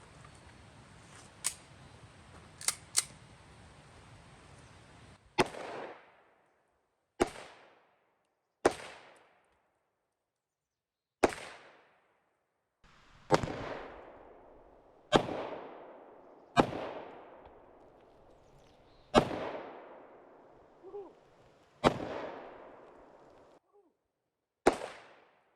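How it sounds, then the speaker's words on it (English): Smith & Wesson M&P 5.7 pistol fired at soda cans outdoors: a few sharp cracks with quick echoes early, then about a dozen loud, spaced single shots, each ringing out with a decaying tail. "I'm going to take a few shots at some soda cans."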